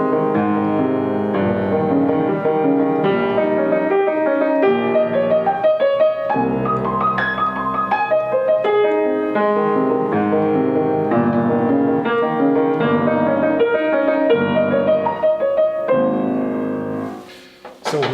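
A Beethoven passage plays on piano with dotted articulation on the eighth notes, a clear continuous run of crisp detached notes that fades out near the end.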